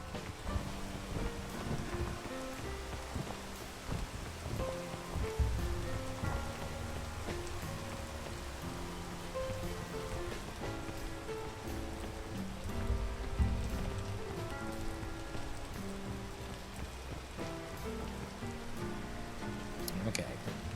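Dense, steady patter of rain falling in the climbing video game Peak, a continuous hiss of drops on surfaces with a light wind noise underneath, holding at an even level throughout.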